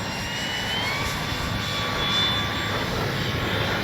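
A Dynam ME BF-109 RC model warbird airplane flies overhead in crosswind, its electric motor giving a steady, moderately loud whine with a slight swell mid-pass.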